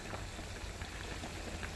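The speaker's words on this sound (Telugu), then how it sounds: "కర్రీ ఉడుకుతుందండి." Godavari fish curry with tamarind simmering in a pot, a soft, steady bubbling and crackle heard close and alone.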